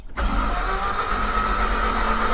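A Toyota MR2 (first generation) engine cranks on the starter motor, beginning abruptly and then holding a steady, loud mechanical churn to the end.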